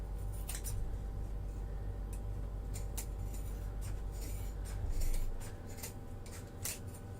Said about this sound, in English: And then we are going to cut and trim